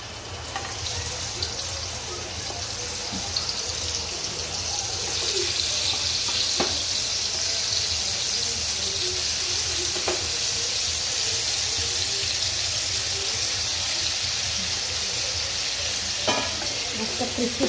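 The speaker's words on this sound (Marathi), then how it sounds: "मस्त क्रिस्पी फ्राय करायची" Fish fries crispy in a hot pan with a loud, constant sizzle and crackle, and occasional faint clicks and scrapes over it.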